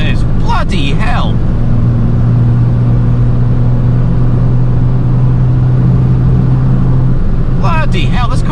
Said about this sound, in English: this car goes so well for what it is.